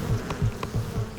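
Worker bees buzz in a steady, pulsing drone, a close swarm hum that rises and falls in quick regular beats with no voices.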